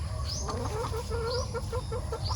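Breeder hens and ready-to-lay egg-laying chickens cluck continuously on a rural provincial farm early in the morning. Several birds overlap in steady, close clucking over a constant low background hum.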